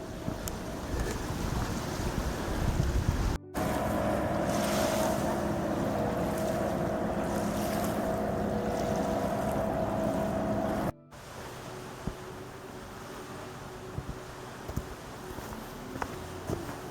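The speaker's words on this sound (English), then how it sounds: "Bunch of a-holes driving up and down in their boats on the lake." Motorboats running up and down Lake Rotoiti in Nelson Lakes National Park, a steady droning engine hum carried over the water with wind buffeting the microphone, distant and continuous with a brief cut midway.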